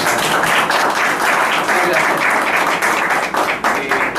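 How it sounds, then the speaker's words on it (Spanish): Vigorous, close applause from an audience at an academic event on the psychology of human action and ethics, dense clapping continuing strongly for the entire stretch. "mínimo merecemos un aplauso"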